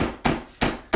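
A hammer pounds wooden dowels into wooden end pieces, three sharp close strikes landing at a steady rhythm of roughly one every third of a second, each with a short woody decay.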